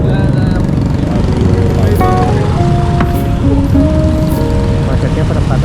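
A jammed crossroads on the road to Balangan Beach in Bali hums with idling car and motorbike engines and a dense, steady roadway drone. A voice talks over the traffic.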